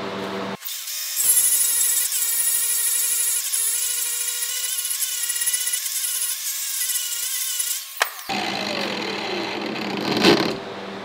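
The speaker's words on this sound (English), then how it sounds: "I'm going to do the other side with just a regular grinding disc so you can see the difference between the two" An angle grinder with a regular grinding disc spins up and grinds metal with a loud, steady high-pitched whine, then cuts off abruptly before a brief rougher burst of grinding near the end.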